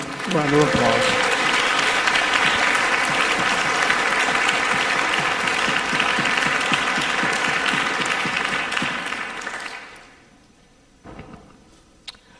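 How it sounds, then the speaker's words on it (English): Sustained applause from a holiday concert audience fills about ten seconds, dense and steady, then drops off quickly, leaving a few scattered claps and quiet room sound. "Give him another round of applause."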